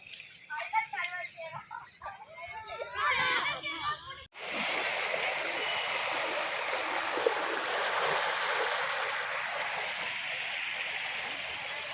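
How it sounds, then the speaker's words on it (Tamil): Children splash and bathe in the water of Veeranam lake. A steady, loud rush of water and splashing starts suddenly after a few seconds of people talking nearby. "இதோ நம்ம குட்டிஸ்லாம் குளிக்க ஆரம்பிச்சிட்டாங்க"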